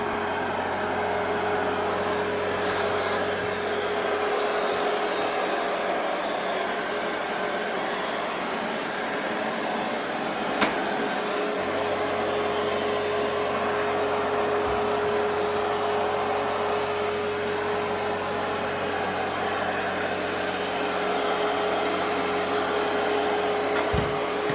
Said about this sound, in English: we're going to go ahead and start that robot